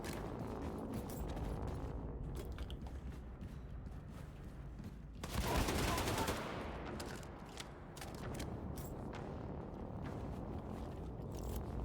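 Sustained turret gunfire in Wolfenstein II: The New Colossus, a dense continuous fusillade that swells into a louder burst midway, with no talk over it.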